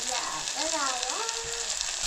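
Onion, tomato and homemade masala sizzle steadily in oil in a pot over a wood-fired chulha, a dense continuous frying hiss heard up close while a voice sounds faintly in the background.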